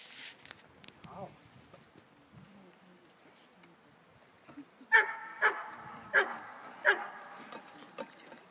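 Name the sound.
dog barking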